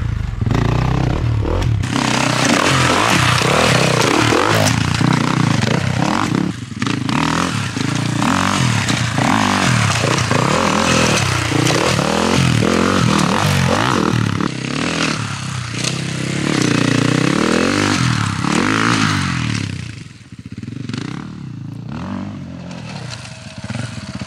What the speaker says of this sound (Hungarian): nagyon jól megy a Gábor, látszik, hogy itt hatékony motorozásról van szó